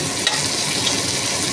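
Onions frying in a pan in a home kitchen, a steady close sizzle and crackle held throughout with a couple of faint stirring taps, no talking.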